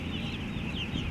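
Chickens cluck in a continuous dense chorus inside a poultry farm house, a short close flock murmur with no voices.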